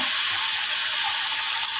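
Chicken pieces hitting a hot pan for Filipino chicken adobo, giving a steady, close, bright sizzle of frying that stays even throughout with no talking.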